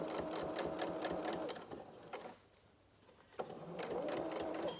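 A domestic sewing machine stitches through thick fabric while a stuffed highlander doll's body and limbs are sewn, running steadily, pausing briefly, then starting up again close by.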